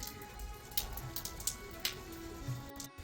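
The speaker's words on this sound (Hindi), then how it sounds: "ब्लॉग की शुरुआत इस बारिश भरे मौसम से अपने खूबसूरत से गांव ग्राम सभा खम्बाखाल से हो रही है भाई।" Rain falls steadily in a hill village during a wet morning, a soft even patter with scattered louder drips landing close by on nearby surfaces.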